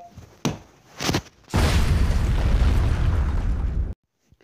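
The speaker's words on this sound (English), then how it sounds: "Explode." A loud, close explosion bursts after a couple of sharp pops, its roaring rumble sustained for a few seconds before cutting off abruptly, with no voices over it.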